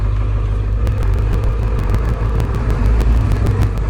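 A truck pulls in on a road while wheat is being hauled for harvest, a low steady engine rumble with faint ticking above it, close by and heard alone.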